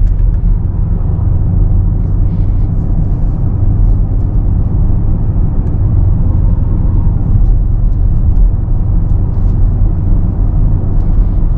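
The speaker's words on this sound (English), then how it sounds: "And the exhaust sound doesn't sound too loud" A 2017 Mercedes GLS63 AMG on a night drive, its exhaust and engine a steady, loud, low rumble heard from inside the cabin with constant road noise and no talking.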